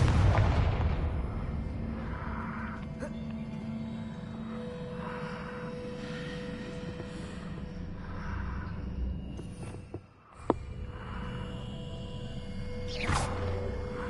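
A Confringo fire spell bursts in Hogwarts Legacy, a booming blast at the start that rolls into a long rumbling roar with repeated softer swells and a sharp crack near the end.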